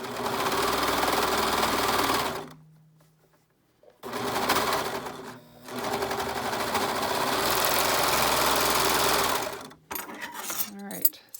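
Serger sewing machine running steadily while stitching a straight seam on a baby kimono, loud and close in two long runs separated by a brief pause, with no talking.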